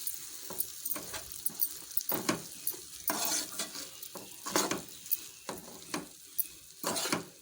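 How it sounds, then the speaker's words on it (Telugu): Rayalaseema uggani being stirred and fried in a pan: soft sizzling under repeated scraping strokes of a spoon against the pan, coming in uneven bursts about every half second, close and fairly quiet. "బాగా కలిసే విధంగా మనం తిప్పుతూ బాగా కలపాలండి."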